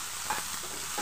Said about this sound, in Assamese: আৰু লগতে এটা পিঁয়াজ লৈছিলোঁ, তাৰে আধা অংশ ইয়াত পিঁয়াজ মই মিহিকৈ কাটি আকৌ দি দিছোঁ ফোৰণৰ বাবে